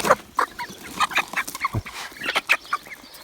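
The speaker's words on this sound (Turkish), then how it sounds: "Bakın bu horoz." Several chickens and a rooster cluck in quick, scattered bursts close by, a busy flock chattering without pause.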